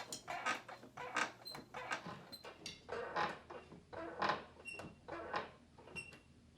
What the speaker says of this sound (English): I really need to get a new chair for my filming because this one is so creaky.